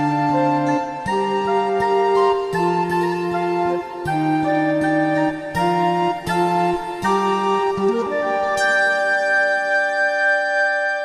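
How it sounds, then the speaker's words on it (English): A Roland GR-55 guitar synthesizer patch blending recorder with acoustic guitar plays a melodic phrase of distinct plucked-and-blown notes in clear rhythm, ending on a long ringing high note, with no voices. "This is actually a recorder with an acoustic guitar, and it can sound like this"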